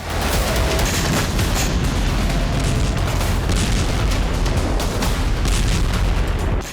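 Dense, continuous rumbling blasts and booms of wartime strikes in the Russia-Ukraine war pile up loudly without pause, like a heavy barrage of explosions close at hand.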